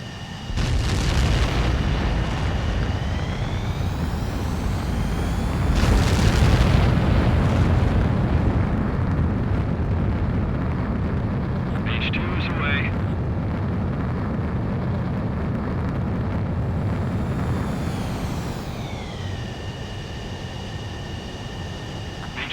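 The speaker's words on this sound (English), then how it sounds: "begin takeoff sequence. You're cleared for launch." Fighter jet takeoff in the video game Ace Combat 7 on Xbox Series S: a loud, sustained engine roar that swells early, then holds steady with rising whine tones and a brief mechanical chirp midway.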